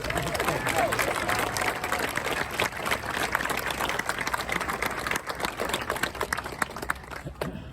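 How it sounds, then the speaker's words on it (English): Steady audience applause at a highway corridor ribbon cutting ceremony in Bakersfield, many hands clapping in a dense, even patter with murmuring voices mixed in, sustained at moderate loudness. "I think you can clap forever"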